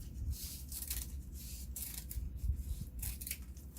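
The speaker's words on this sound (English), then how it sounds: "So I'm going to take the rough side and I'm going to cut it" Scissors cutting through the rough edge of fabric, a soft, close series of snipping and rustling strokes at a steady pace, quiet and alone.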